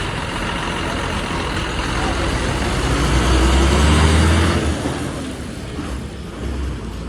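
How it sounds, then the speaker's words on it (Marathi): A red MSRTC state transport bus (Lalpari) pulling up on the road to Anganewadi, its diesel engine rumbling louder as it draws near, then easing off, with faint voices around. "आता आपली जी बस आहे जवळच आली आहे तर लालपरी आले बघा समोर"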